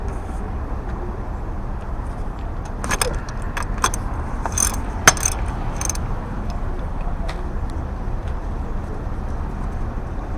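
A wrench works loose the power steering banjo bolt on a 1.8T turbo engine. Sharp metallic clinks and rattles cluster in the middle over a steady background hiss.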